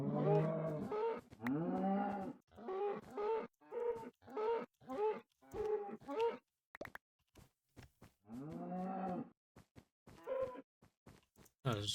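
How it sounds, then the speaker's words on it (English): Cows in the video game Minecraft moo repeatedly, a series of drawn-out lowing calls in irregular succession, clear and fairly close, with some shorter clicks and gaps between them. "Alright, cows."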